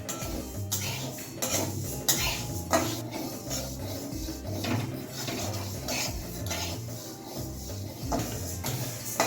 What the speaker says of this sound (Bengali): এবার তার মধ্যে দেবো সে ডালটা, এটা শুকনো করে একটু নেড়ে ছেড়ে নামিয়ে নেব।